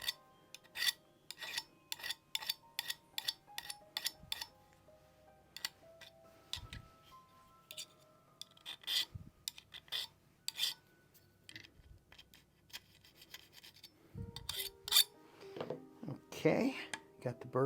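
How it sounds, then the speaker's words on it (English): A hand file rasps burrs off a freshly cut locksmith's impression key in short, irregular strokes with brief pauses, close and fairly quiet. "I'm going to get some of the burrs off of that."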